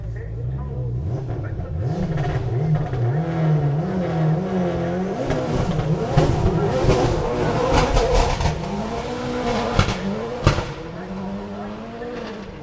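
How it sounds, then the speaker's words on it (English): A Tesla Engineering prepared Mitsubishi Evo 10 rally car runs a forest stage at the Ashley Forest Rally Sprint, its engine revving and shifting through gears with tyre scrabble, steady and fairly close, with commentary voices over it. "So here comes Sloane Cox in the beautiful Tesla Engineering prepared Evo 10"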